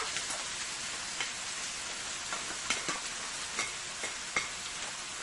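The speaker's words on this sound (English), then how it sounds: "Let's start frying our vegetable for this fish cake." Vegetables fry in hot oil in a pan for salmon fish cakes, a continuous close sizzle with scattered crackles and pops, steady and fairly loud.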